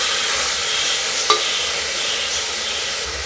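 Ash gourd pieces stirred in a pan while making hotel-style idli sambar, a steady soft sizzle with a single sharp utensil scrape partway through, no talking.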